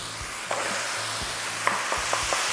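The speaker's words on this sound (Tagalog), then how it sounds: "Igisa lang natin ito hanggang sa maging light brown na yung kulay ng giniling." Ground pork sautéing in a pan with tomato and onion, a steady close sizzle with a few soft scraping stirs and taps of a utensil.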